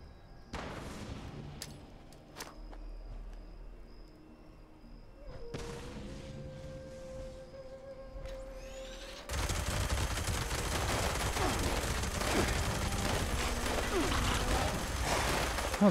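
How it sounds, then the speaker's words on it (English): Automatic gunfire from a light machine gun in Fallout 76, with sustained dense bursts over the second half following scattered shots, mechanical clicks and game ambience earlier. "I gotta use a light machine gun"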